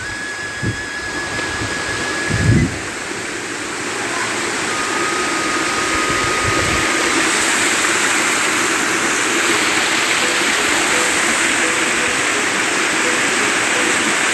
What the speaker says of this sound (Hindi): तो लांगहरांग का वाटरफॉल पूरा का पूरा देखिए